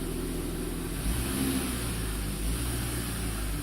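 A Saab 9-3 turbo engine running after an intercooler hose repair, a steady, loud, close engine drone with a slight rise in revs midway, no talking.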